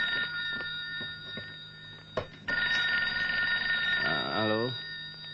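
Telephone ringing at night, a repeated electronic ring with a short break midway, then a falling warbling tone near the end as it is picked up, with faint background noise.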